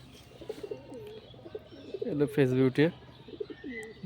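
Giribaz and Madras pigeons coo close by, a louder rolling coo rising in the middle amid softer scattered calls, with someone speaking briefly over them.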